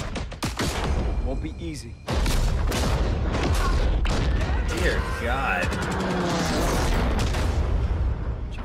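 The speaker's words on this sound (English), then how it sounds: "So many explosions." Explosions and gunfire from the Call of Duty WWII game trailer, loud booms and rapid shots in dense bursts with a brief lull, under dramatic trailer dialogue.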